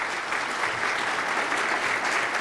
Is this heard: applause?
yes